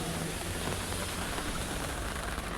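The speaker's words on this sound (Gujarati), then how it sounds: "આમ જો વરસાદ ચાલુ છે" Heavy rain falls steadily as a dense, even hiss, loud and continuous throughout.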